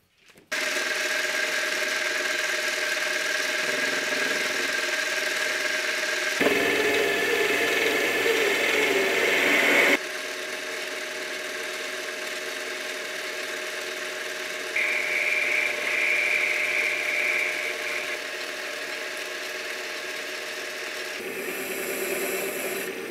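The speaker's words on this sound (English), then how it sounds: "I machined the other side in the collet chuck of my lathe" A metal lathe machines a part held in a collet chuck, giving a continuous, fairly loud mechanical hum with a steady whining tone that shifts in character a few times as cuts change, with no talking.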